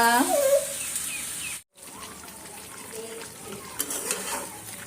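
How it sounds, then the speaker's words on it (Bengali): Uncooked rice is dry-fried in a pan before going into a rice cooker for pulao, with scraping stirs and a light sizzle, a brief silent gap, and bird calls in the background. "চাউলটা ভেজে তারপর রাইস কুকারে দিয়ে দেবো এটা এখানে ভাজতেছি"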